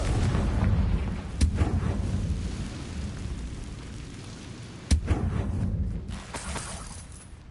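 In the wizarding game Hogwarts Legacy, a Confringo fire spell bursts with two sharp, loud explosive cracks a few seconds apart. Each crack is followed by crumbling, shattering debris over a steady rumbling background.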